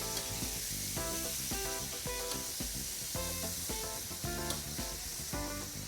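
Bacon sizzling and crackling on a new ENO La Plancha outdoor griddle, a dense steady hiss with popping fat, loud and close, with no voices.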